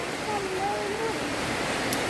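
Steady broadband rushing of heavy rain, dense and continuous, with faint voices murmuring underneath.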